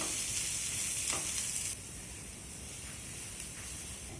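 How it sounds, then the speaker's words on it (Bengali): Chopped onion, garlic and green chilli sizzle in hot oil while being stirred, a soft continuous frying hiss with scraping, the sound easing slightly partway through. "সব কিছু নেড়ে চেড়ে এখন ভালো করে ভেজে নেব"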